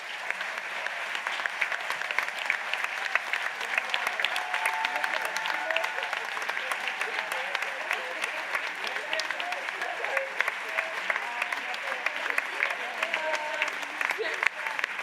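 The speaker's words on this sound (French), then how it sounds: "un tonnerre d'applaudissements pour nos collègues de Rennes" A conference audience at the JNE Rennes 2025 closing session breaks into sustained applause for colleagues from Rennes, a dense, even clatter of many hands at moderate distance that carries on throughout.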